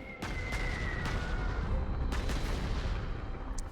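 Artillery fire in the strategy video game Panzer Corps 2: a string of sharp, loud booming shots over a dense rumbling battle bed, several distinct blasts spaced across the stretch, no voices.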